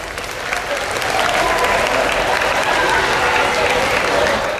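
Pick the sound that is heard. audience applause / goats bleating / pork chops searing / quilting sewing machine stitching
audience applause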